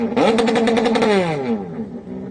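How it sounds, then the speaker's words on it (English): Yamaha 1050 engines in 1100 mod watercross boats scream loudly while racing, with rapid rhythmic stuttering as they bang off their rev limiters, then the whine falls away as the boats move off into the distance. "Hear those 1050 Yamaha engines in the 1100 mod boats at Trent and Tristan. You hear them banging off their rev limiters."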